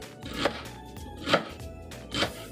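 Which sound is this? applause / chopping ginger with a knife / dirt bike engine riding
chopping ginger with a knife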